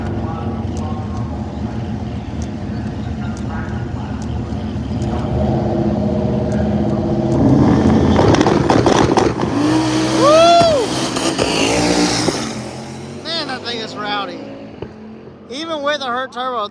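A turbocharged drag-style race car with a damaged turbo accelerates hard down the track at speed, a rising engine roar building loud in the middle before fading, with crowd noise and talk around it.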